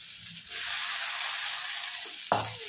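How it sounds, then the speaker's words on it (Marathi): Crumbled bhakri, jowar flatbread, stir-fried in a hot pan, giving a loud continuous sizzle that swells after a quiet start, with a short spatula scrape near the end and no voices. "आता याला 2 मिनिटं छान परतून घ्यायचं आपल्याला"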